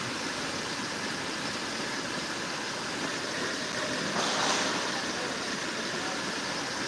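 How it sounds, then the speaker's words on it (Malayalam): Flowing water rushes as a broad, steady roar that stays constant and moderately loud, swelling slightly for a moment, with no voices. "വെള്ളം ഒഴുകി പോകുന്നത്"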